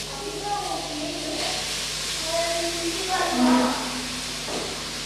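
Boiled banana flower is tipped into a hot pan for a drumstick-leaf stir-fry, setting off a steady hissing sizzle that swells slightly midway, with a person speaking over it.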